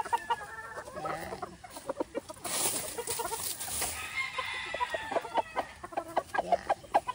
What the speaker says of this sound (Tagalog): ewan ko ba kung ba't napakatapang ng manok na to